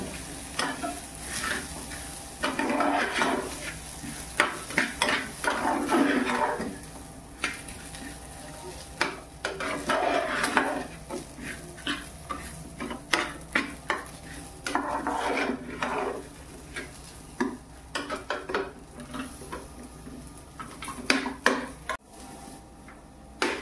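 Broken wheat for lapsi dry-roasting in a pan, stirred with a spoon in steady scraping strokes and a light sizzle, with a voice talking intermittently over it.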